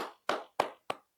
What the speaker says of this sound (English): let me clap for this guy.